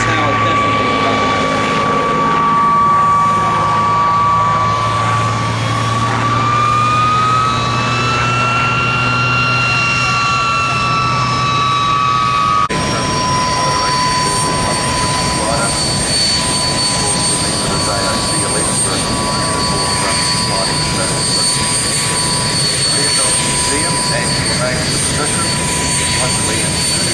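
Warbird fighter aircraft flying at the Warbirds over Wanaka 2008 airshow, a steady engine drone with shifting pitch under continuous commentary, growing more diffuse and broadband in the second half.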